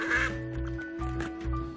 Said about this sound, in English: Duck Detective is a 2 to 3 hour long mystery game